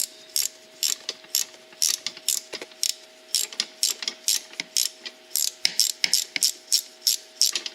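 A ratchet loosening a 15mm engine mount bolt on a Polaris Sportsman ATV, rapid close clicking in repeated short bursts with brief pauses between strokes, no talking.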